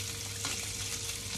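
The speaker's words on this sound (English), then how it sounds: "we're going to crank the heat up a little bit, bring it to a boil" Fish in coconut milk gravy sizzles and bubbles in a pan as the heat is raised toward a boil, a steady close frying hiss with faint stirring clicks.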